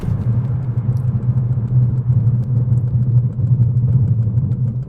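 An Alfa Romeo Junior Ibrida Speciale during a brake test gives a steady, loud low engine and road rumble, continuous throughout with no voices.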